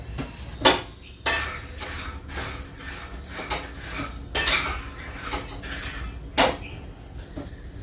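Peanuts being dry-roasted over low heat in a heavy, thick-bottomed kadhai, with a spatula scraping and clanking against the metal in uneven strokes and a few sharper knocks.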